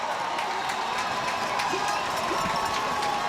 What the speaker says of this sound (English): He can hear the crowd.